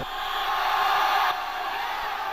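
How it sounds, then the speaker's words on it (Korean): Spectators at a tug-of-war match applauding and cheering, a dense roar of crowd noise and clapping, heard distantly and evenly, easing off slightly partway through. "응원자들의 열광적인 박수갈채와 환호로 밧줄 당기기 경기 분위기는 한층 고조되고"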